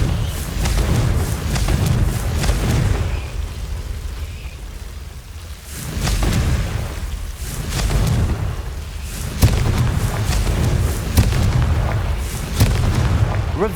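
Repeated blasting-spell explosions from Confringo in Hogwarts Legacy, deep booming bursts recurring every couple of seconds over a rumbling, noisy background, loud and dense with no talk.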